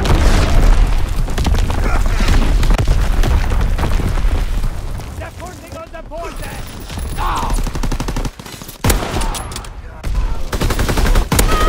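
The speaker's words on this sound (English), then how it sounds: "Incoming enemy artillery," An incoming artillery barrage in the Call of Duty WWII video game brings loud, continuous booming explosions mixed with rattling gunfire, with in-game voices shouting over the chaos.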